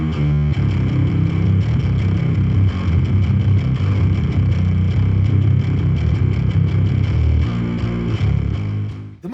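Heavily compressed bass guitar in a metal mix, thick and even, played in a steady continuous line at a loud, constant level throughout without a break.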